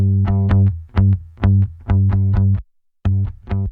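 A bass guitar is played through a saturation effect rack with two drive stages, giving a gritty, harmonically rich tone. Several close, loud plucked notes repeat in a rhythmic pattern, with a brief pause before the last two.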